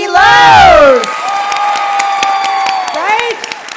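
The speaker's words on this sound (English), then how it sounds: "give a round of applause for the amazing Katie Lowe's!" A live talk audience cheers and applauds for actress Katie Lowes, a loud burst of shouts and whoops that settles into sustained clapping and crowd noise, with some voices rising over it.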